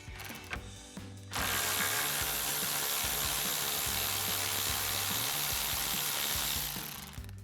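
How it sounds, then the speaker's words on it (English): A ratchet turns a 13mm socket to remove the driver's side radiator support bolt on a Ford F-150 with an EcoBoost engine. After a brief pause, a rapid, continuous clicking of the pawl runs loud and close for several seconds. "we need to remove the driver's side radiator support bolt. We're going to be using a 13mm socket and a ratchet."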